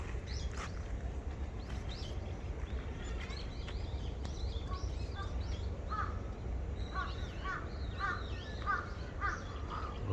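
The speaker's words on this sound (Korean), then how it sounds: "벚꽃과 까마귀 소리가 어우러져 있어서 새소리" Crows caw repeatedly among blooming cherry blossom trees, harsh calls coming in short clusters at moderate distance over a steady low outdoor rumble, with a few faint smaller bird chirps.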